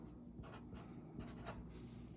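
A pen or marker writes out a division problem for a Saxon Math lesson, giving soft, faint scratching strokes in short, irregular bursts, close up and quiet.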